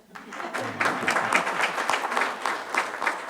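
An audience at a tribal council meeting applauds the chief's wife with a lively burst of many hands clapping. The applause swells quickly after a quiet start and stays full and close, with some voices mixed in.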